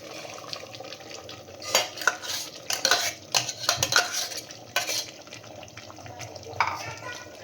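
Ground masala paste being stirred into mutton curry in a pan with onion and tomato already sautéed in oil, a run of scraping, clinking stirs bunched in the middle, fairly close, with no talk.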